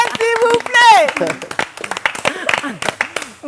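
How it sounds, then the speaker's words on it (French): A short cheering voice, then scattered clapping from a small group, irregular and fairly close. "Est-ce qu'on va applaudir Go Michel, s'il vous plaît?"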